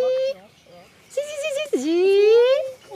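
A human voice whistles and hums an imitation of a yellowhammer's high, squeaky, slightly grating call in a few short phrases, ending with a longer rising note, close and clear with no other sounds.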